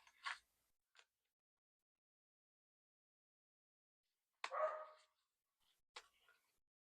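A puppy barks at someone outside in a quiet room: a few short, sharp barks come in scattered bursts with long silent gaps between them, fairly faint and with no one talking.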